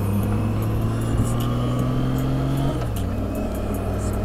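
Steady, close engine drone of a Honda Goldwing F6B motorcycle cruising on a Sunday ride, with a continuous low hum and a slight pitch shift partway through, no talk.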